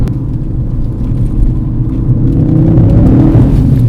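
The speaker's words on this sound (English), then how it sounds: "Oh, okay, that was some gravel." A new Ford Focus RS driving over gravel, a loud low rumble from the cabin with a steady engine drone and a gritty crunch from the tyres building toward the end.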